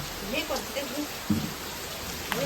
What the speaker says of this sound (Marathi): आम्ही पाऊस पण पडतो तर पावसात मस्त आनंद घेतो